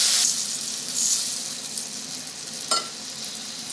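Water hits hot fried mustard masala in a pan for a pabda fish curry, a loud hiss that settles into steady sizzling with a soft stir clink near the end.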